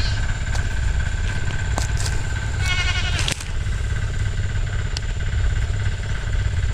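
A goat bleats briefly with a wavering cry over a constant engine idle and steady background hum.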